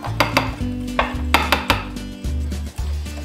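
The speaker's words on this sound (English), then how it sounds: "And you just whisk it up until it's well blended." A butter mixture for hot buttered rum being whisked in a bowl, with rapid rhythmic clinks and scrapes of the whisk against the sides, close and fairly loud with no talking.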